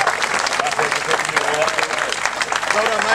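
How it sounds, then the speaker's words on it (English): Festival audience applauding a live band at an outdoor summer music-and-beer event, steady dense clapping with some voices mixed in, loud and close throughout. "come on, a big clap for them"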